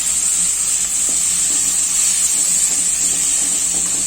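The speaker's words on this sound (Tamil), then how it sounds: "தக்காளி இப்ப நல்லா வதங்கட்டும்" Chopped tomatoes and masala sautéing in a pan for tomato rice, a steady loud sizzle and hiss throughout with faint stirring knocks.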